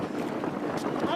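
An electric hire boat cruises along on the water, with steady broadband wind and water rush close to the microphone and voices murmuring underneath.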